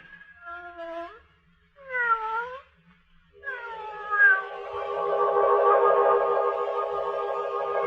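A cat with yellow eyes meows in a 1944 radio drama, three drawn-out, wavering meows with short pauses between them, the last becoming a long, wailing caterwaul over faint low background, close and clear.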